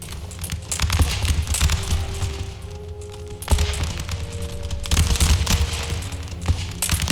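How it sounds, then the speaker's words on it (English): Massed musket volleys between Swedish and Russian line infantry in the battle game Empire: Total War, loud crackling fusillades rolling in overlapping waves, with heavier bursts breaking out at intervals amid continuous battlefield rumble. "the Swedes fire the first volley, but the Russians answer"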